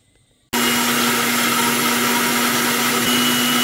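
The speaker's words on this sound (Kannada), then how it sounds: "ಮಿಕ್ಸರ್ ಜಾರ್ಗೆ ಕಟ್ ಮಾಡ್ಕೊಂಡಿರೋ ಬೀಟ್ರೋಟ್ನ ಹಾಕ್ಕೊಂಡು ಮುಂಚೆನೇ ಮಾಡ್ಕೊಂಡಿರೋ ಡಿಕಾಕ್ಷನ್ನ ಹಾಕಿ ಈಗ ಫೈನ್ ಪೇಸ್ಟ್ ಮಾಡ್ಕೋತೀನಿ" A mixer grinder roars to life after half a second of quiet, blending chopped beetroot with a prepared decoction into fine paste. The steady, loud motor whine holds until it cuts off abruptly at the end.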